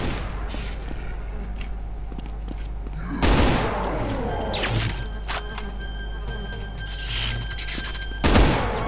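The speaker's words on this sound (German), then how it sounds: "Oh, der schießt schon wieder" Gunfire in the brutal shooter game Extermination Day, a Brutal Doom mod: two loud bursts of shots ring out over a continuous low background rumble, with scattered smaller impacts between them.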